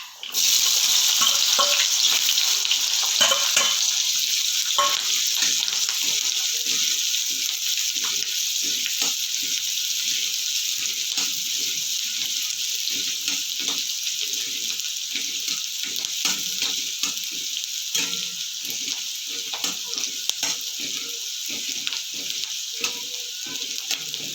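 Cumin seeds and onion fry in a pan for a stuffed besan brinjal dish, a loud steady sizzle throughout with occasional stirring scrapes, easing slightly over time.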